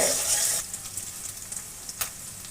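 Chopped onion hits a hot pan and sizzles loudly, then settles into a quieter, steady frying crackle with occasional stirring scrapes.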